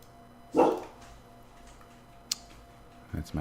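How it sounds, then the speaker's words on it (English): A household dog gives one sharp bark followed by a couple of softer short barks near the end, faint against a quiet indoor background with a click in between. "That's my dog."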